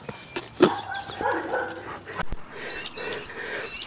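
Excited dogs on the way to a beach whimper, yip and give a few sharp barks close by, restless and overlapping, with soft movement noise behind them.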